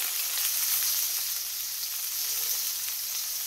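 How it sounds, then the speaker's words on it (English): Steak sears in a hot pan with a constant bright hiss and crackle of sizzling fat, steady and fairly close, with no voices. "you want to get a nice searing to it"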